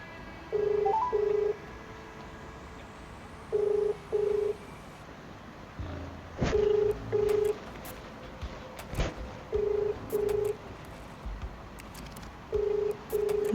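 A telephone ringback tone repeats in paired beeps every few seconds, heard through the line over a faint background hiss.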